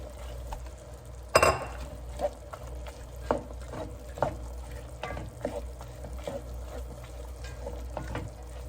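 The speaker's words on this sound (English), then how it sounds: "So I'm going to go ahead and add in these onions and peppers so we can go ahead and get these cooked down." Onions and peppers sizzle in a pan, a steady frying hiss broken by a sharp utensil clank early on and repeated scraping stirs at irregular intervals.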